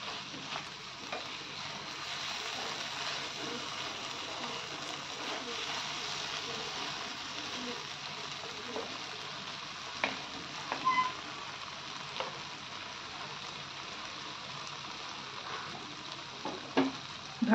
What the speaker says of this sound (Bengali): ঢাকা দিয়ে দিয়ে 2 মিনিট ভাজবো।